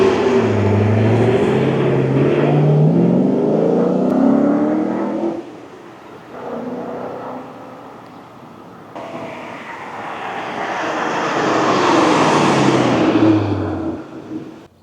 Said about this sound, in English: you're driving an absolute Porsche classic